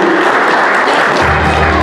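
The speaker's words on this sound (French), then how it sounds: "L'applaudissement de l'Assemblée est réclamé." A congregation at a church wedding vow renewal breaks into loud, dense applause, a close and sustained wall of clapping lasting just under two seconds.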